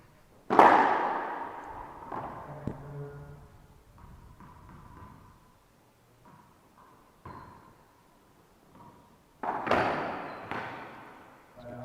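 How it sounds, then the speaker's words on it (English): A racquetball backhand shot in a men's pro doubles match at the US Open: sharp, loud ball impacts cracking off the walls in a court, with a couple of fainter bounces between them. "Shot right there by Rodrigo Montoya with signature backhand that he has."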